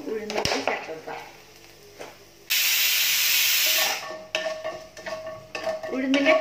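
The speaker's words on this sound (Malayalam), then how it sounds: "വെളിച്ചെണ്ണ ചൂടാവുമ്പോൾ ഇതിലേക്ക് 1 ടീസ്പൂൺ കടുകിട്ട് പൊട്ടിക്കുക" A teaspoon of mustard seeds crackles and spits in hot coconut oil for Kerala sadhya koottucurry, with a sharp, loud burst of hissing spatter in the middle, clinks of a utensil before and after, and speech in between.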